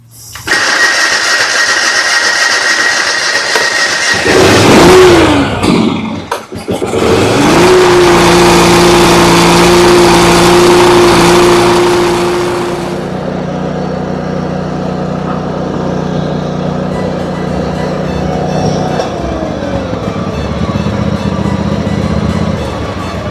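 A water-cooled Kawasaki engine cranks and catches after a brief stutter, then settles into a steady loud run with a sustained rev before easing back to a lower idle, close by with no talk.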